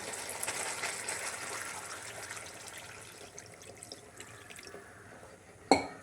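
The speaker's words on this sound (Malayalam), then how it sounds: "കുറച്ച് വെള്ളം ഒഴിച്ചു കൊടുക്കാൻ പോവാണ്" Water pours and splashes into a pot up close, tapering to a trickle, then a sharp clatter near the end.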